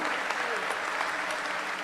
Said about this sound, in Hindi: जोरदार तालियों से उनका भी अभिनंदन